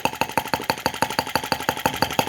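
Small brass Lanz-type model half-tracked tractor engine running, a rapid, even chuffing beat of sharp exhaust pops at roughly five per second, close and loud with no voices.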